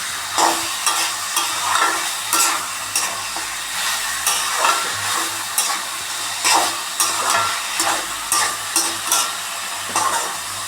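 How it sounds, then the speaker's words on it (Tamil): Salt, turmeric powder, onion, tomato and green chili frying in oil for a South Indian pepper chicken, a continuous close sizzle broken by regular scraping stirs of a spoon in the pan. "இந்த உப்பு, மஞ்சள் பொடி, வெங்காயம், தக்காளி, பச்சை மிளகாய் இதெல்லாம் அப்படியே எண்ணெயில் நல்லா கறக்கணும்"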